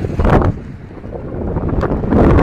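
A strong headwind buffets the microphone while riding a bicycle on an open road, a loud, rumbling roar that swells and eases without talk.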